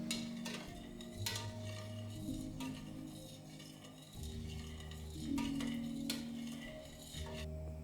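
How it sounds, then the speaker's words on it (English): Agar and malt extract mixture gets stirred in a pan, faint scraping and clinks of a utensil against metal in irregular strokes, quiet and close, with no voices. "And then stir this mixture around and turn the heat on."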